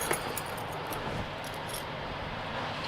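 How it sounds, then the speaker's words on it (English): Metallic jingling and clinking of a padlock being put on a trailer door close by, brief rattles over a steady background hiss. "Put our lock on."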